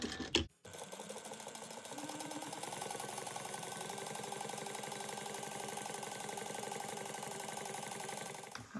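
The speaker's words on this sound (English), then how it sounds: "And then we're going to top stitch this at 1/8 of an inch" Sewing machine running continuously while top stitching a laptop bag, a fast, even mechanical rattle that starts after a brief pause and carries on steadily, close and fairly quiet.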